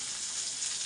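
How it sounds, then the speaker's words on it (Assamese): Onions frying in oil in a wok (kerahi), a steady, close, bright sizzle that stays even for the whole short moment with no voices. "এয়া সেইখন কেৰাহীতে তেল দি পিনে আৰু এতিয়া পিঁয়াজবোৰ দি পিনে ধুনীয়াকৈ ভাজি দিছে"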